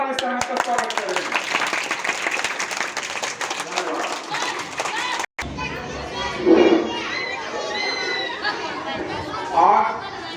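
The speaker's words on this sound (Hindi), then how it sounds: "एक बार जोरदार ताली से हम इसका स्वागत करेंगे" A village crowd claps and cheers to welcome home a disabled young man, with chatter and children's voices throughout and applause mixing into the general noise, swelling in bursts.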